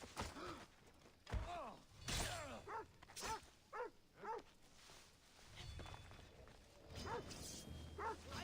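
A dog in the video game Assassin's Creed Odyssey, barking repeatedly in short separate yelps with uneven gaps, fairly close, mixed with scuffling footsteps and other game noises.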